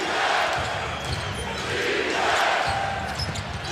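Crowd noise swelling through a basketball arena during a 2011 NBA playoff game between the Pacers and Bulls, a dense continuous roar rising and falling with squeaks and bounces beneath it, loud and steady throughout.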